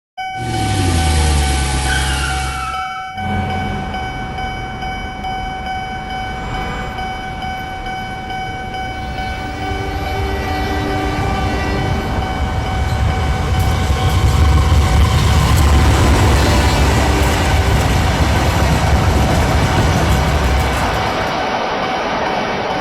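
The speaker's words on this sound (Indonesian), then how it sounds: "Mungkin kereta mulai tiba di stasiun." A train horn blares briefly as the train arrives at a station, then a steady low rumble of rail cars rolls on and grows slightly louder, with faint squeals and clatter throughout.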